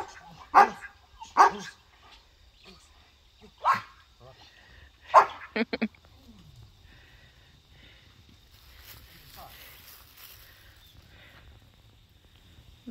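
Dogs setting out on an evening walk outside a house bark loudly about four times in the first half, some barks doubled, then the scene settles into faint outdoor ambience.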